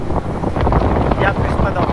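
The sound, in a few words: strong 29-knot wind entering harbour on sailboat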